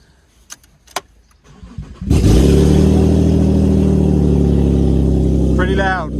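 A JDM Subaru with its catalytic converter removed cranks and roars to life, then holds a loud, deep, rumbling idle close by, after a few clicks and a quiet voice at the start.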